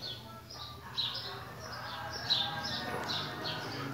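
A chopi blackbird sings loud, clear whistled phrases in short repeated bursts over a quiet background hum.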